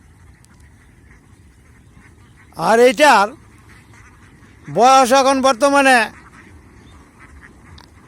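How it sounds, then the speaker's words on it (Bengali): A young native drake, about two and a half months old and raised for meat, gives two bursts of loud, harsh nasal quacks close by, the second burst longer, with someone talking quietly around them. "আজকের যে হাঁসটা, এটা শুধু মাংসের জন্য ছেলে হাঁস।"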